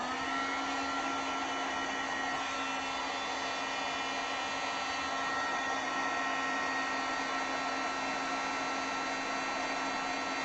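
Heat tool blowing hot air onto thick embossing powder on a craft piece, a loud, steady whirring drone that holds without a break throughout, with no talk.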